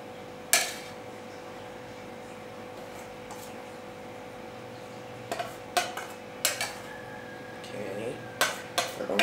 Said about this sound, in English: So I'm just going to use this spoon to fill in my measuring cup.